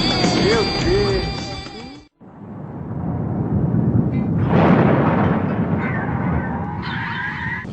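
Storm sounds during Brazilian thunderstorms: a deep, rumbling roar of thunder swells loudly and rolls on for several seconds after a brief silence, with other noisy sounds layered on top.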